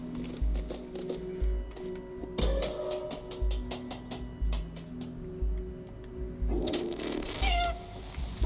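A cat meows in the video game Stray, several short cries heard over a low rhythmic ambient background and ticking sounds.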